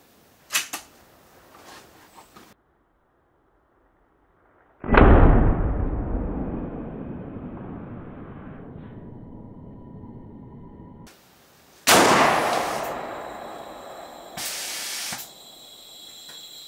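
A Fury 20mm air rifle charged with an air and helium mix fires: a loud, close blast followed by a long decaying hiss of escaping gas, then a second sharp burst and hiss a few seconds later, with faint handling clicks before.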